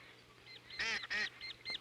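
Ducks calling at a pond-side nest during spring hatching: a few short, nasal honking calls, two louder and closer in the middle, with softer calls before and after over a quiet background.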